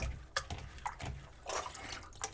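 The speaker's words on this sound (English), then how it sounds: "it rinses the rice without me touching the rice" Water swishing and splashing as rice is rinsed inside a rice-rinsing gadget, with short bursts of running and trickling water in quick, irregular pulses, close up and fairly quiet.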